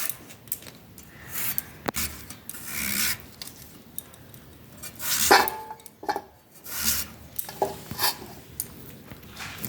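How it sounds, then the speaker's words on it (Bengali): A pumpkin is peeled and cut into pieces, giving scraping, rasping strokes of a knife and sharp taps on a board, irregular and close, with no talk. "প্রথমে খোসাগুলো আমি উঠিয়ে নিচ্ছি, তারপর টুকরো টুকরো করে পিস পিস করে কেটে নিচ্ছি।"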